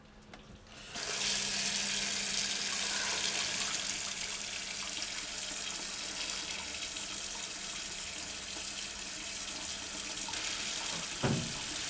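A household tap pours steadily after a brief bump at the start, a continuous close hiss of running water that carries on unchanged to the end, with no voices.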